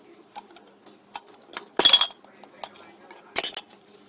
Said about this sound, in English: So here I pull out a cap and lid, and I'm going to go ahead and put this on here.